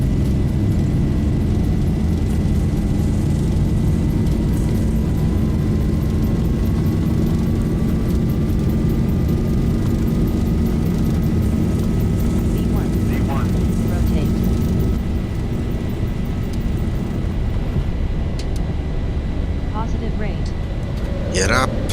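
Boeing 737 engines spooling to takeoff thrust in a flight simulator, a constant loud roar with a rising tone held steady, and brief speech toward the end.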